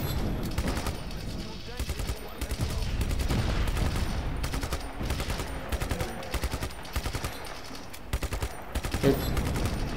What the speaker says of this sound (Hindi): अब हमें इसे नॉर्मल गन से ख़त्म करने पड़ेंगे क्योंकि हमारे पास कोई बड़ी गन है नहीं